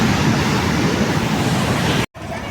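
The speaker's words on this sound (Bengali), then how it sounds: "প্রচণ্ড ঢেউ" Strong sea waves surge continuously on Digha beach, a loud broadband roar of surf close by that cuts out for a split second near the end before resuming.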